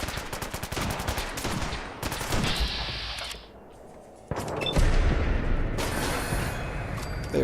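Gunfire in Fallout 4 with the Sim Settlements 2 mod, loud rapid automatic bursts and single shots in quick clusters, a brief lull, then another heavy volley with ringing echoes.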